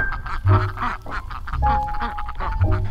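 Ducks kept alongside chickens on a small farm quack up close in repeated loud bursts, several calls overlapping in a rough irregular rhythm.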